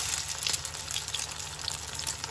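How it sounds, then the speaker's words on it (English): Potato cutlets coated in beaten egg sizzle in hot oil in a low, shallow frying pan, a continuous close crackle and hiss with no talking. "I'm going to fry these on both sides just for a couple of minutes."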